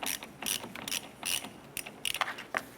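Ratchet wrench with a 13mm socket backing off a ground terminal nut on a 1993-1997 Ford Ranger corner light, giving several quick, close bursts of clicking pawl with short pauses between them.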